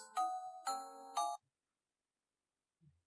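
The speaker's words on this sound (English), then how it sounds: "that was my ringtone" An Android phone ringtone plays three bright chiming tones in quick succession, then stops, leaving near silence.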